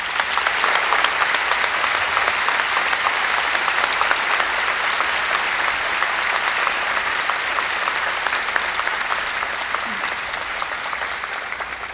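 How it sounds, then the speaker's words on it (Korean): Sustained audience applause fills a lecture hall at a special lecture by former president Kim Dae-jung, a dense, steady clatter of many hands holding at an even loudness for the whole stretch with no speech over it. "큰 박수 부탁드리겠습니다"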